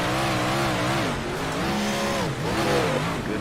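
Big block modified race cars in the ODSE sim racing game, with several engines revving and wailing close together, pitch rising and falling through steady, loud running; no distinct crash impact stands out.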